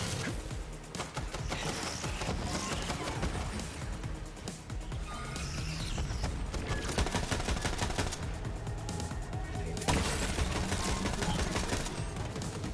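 Sustained automatic gunfire from Borderlands 3, fast rattling bursts going almost without pause, loud and close, with scattered impacts and game effects mixed in.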